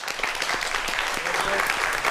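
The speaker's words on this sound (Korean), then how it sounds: "두 분을 박수로 모시겠습니다" Studio audience applause welcoming two architecture experts onto a science talk show, a sustained even wash of many hands clapping throughout, with a voice faintly audible beneath it.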